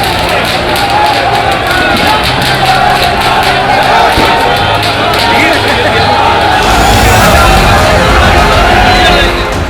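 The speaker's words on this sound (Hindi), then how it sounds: "इसे सिर्फ भीड़ कहना कम है, दरअसल समर्थकों का समंदर नजर आ रहा था।" A large crowd of supporters at a nomination rally makes a dense, continuous roar of babble and shouting, loud and close throughout and swelling slightly toward the end.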